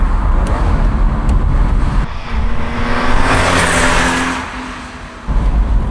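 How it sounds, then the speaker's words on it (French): A BMW M20 inline-six engine revs hard and steady, its pitch climbing and holding before easing off, loud and close with no talking. "Alors le moteur est relativement creux en bas, et à 3000 ça commence à prendre"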